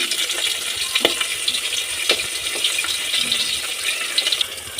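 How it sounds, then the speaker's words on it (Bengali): Rupchanda fish curry bubbling and popping in a covered pan as it boils, a steady wet simmer with scattered sharp pops and crackles throughout. "তো বন্ধুরা দেখুন কীরকম ফুটছে পটপট পটপট করে আওয়াজ হচ্ছে"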